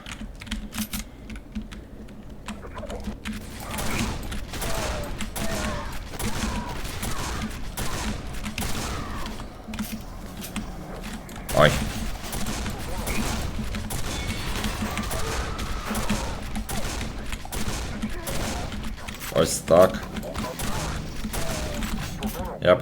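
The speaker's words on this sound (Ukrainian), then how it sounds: "стараюсь безперервно безперервно стріляти" Rapid, continuous bursts of Quake 4 gunfire crackle with rattling clicks, fairly quiet, with a few louder shots standing out.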